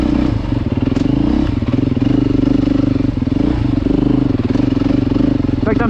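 A Beta dirt bike rides steadily with the throttle rolling on and off, its engine note rising and easing, with clatter and thumps from the rough ground.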